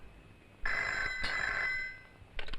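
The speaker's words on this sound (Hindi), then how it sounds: "मधु, तुम्हारी माँ जी का फोन" A telephone bell rings once in a steady, bright electronic trill lasting just over a second, starting sharply, then a shorter burst follows near the end.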